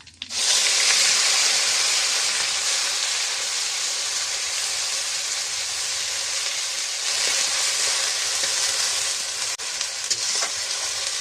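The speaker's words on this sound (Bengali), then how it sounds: "কড়াইতে কালো জিরা ফোড়ন দিলাম, তারপরে পেঁয়াজ বাটা" Nigella seeds and onion paste frying in a wok over high heat, a loud, steady hiss of sizzling oil that holds evenly throughout, close up and with no talk.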